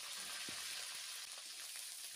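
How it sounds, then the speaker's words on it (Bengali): Steady sizzling and frying hiss from chicken pieces being sautéed in a hot pan, with faint stirring clicks; no voices. "মুরগির গোস্তগুলো কষে নিবি।"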